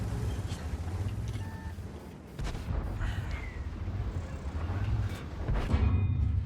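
The FV227 Conceiver tank in World of Tanks fires in a city battle. Heavy booming shots and engine rumble dominate, with mechanical clanks and brief tonal beeps layered over the steady low drone.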